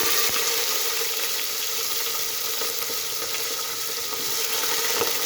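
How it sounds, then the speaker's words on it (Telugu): Chopped onions sizzle and fry steadily in hot oil in a pot for tomato pulao, a continuous close crackling hiss with no talk over it. "ఉల్లిపాయలు వేస్తున్నాను."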